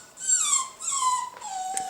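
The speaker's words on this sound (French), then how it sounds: "Et Elki qui est là et qui bouge pas et qui pleure depuis qu'on l'a déposé" A dog left at home whimpers in a run of high, drawn-out, falling whines, close and clear, with short pauses between cries.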